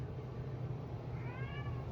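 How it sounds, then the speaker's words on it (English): A cat gives a single faint, drawn-out meow partway through, set low under a steady background hiss with no voices. "That's a good cat right there."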